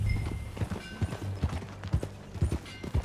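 Horse hooves clip-clop in Red Dead Redemption 2, a steady rhythmic gait of close, distinct hoof strikes over a low background hum.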